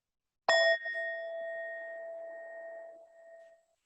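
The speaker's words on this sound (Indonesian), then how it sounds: "Silakan Siska dibunyikan belnya dan pimpin ini." A single meditation bell rings out once to open a breathing meditation, a clear bright strike whose tone lingers and slowly fades over about three seconds, heard alone in quiet.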